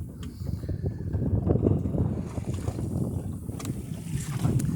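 A sailboat under sail heading toward Rye Harbor, with soft water washing against the hull and steady wind rumble at low volume, and no talking.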